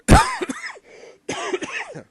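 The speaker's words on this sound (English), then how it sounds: "Try not to cough." Two sharp coughs close up, separated by a brief pause, with a throaty rasp.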